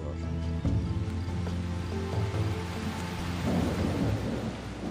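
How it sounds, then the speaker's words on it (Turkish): Heavy rain from a November storm pours steadily with deep thunder rumbling underneath, a dense continuous roar that swells louder toward the end. "Avına yaklaşmak için şiddetli yağmuru kullandı."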